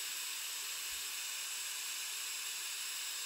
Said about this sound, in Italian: il rumore bianco,